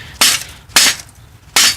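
Three sharp cracks of lump charcoal struck against a sharp edge and shattering, evenly spaced, loud and close with no talk.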